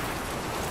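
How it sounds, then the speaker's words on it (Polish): Rain falls in the video game Death Stranding, a dense, steady hiss of downpour that fills the short moment evenly with no breaks. "znów tu będzie padał deszcz, bo przedtem przeczekałam ten deszcz, teraz znowu pada."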